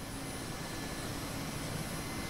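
Mi-8 helicopter engine heard from the cockpit in the DCS flight simulator, a steady, loud turbine whine and rotor drone that holds even throughout.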